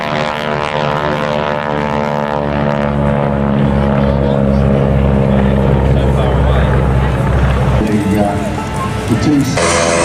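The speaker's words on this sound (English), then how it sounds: "Let's see if we can hear the noise of the round engine" A trainer aircraft's round radial engine drones steadily as two trainers roll at an airshow, a loud continuous propeller hum that swells slightly and holds throughout.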